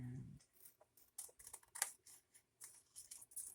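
Scissors snipping through book-page paper to cut out a pattern, a steady series of crisp close cuts and paper rustles, quiet with no voices.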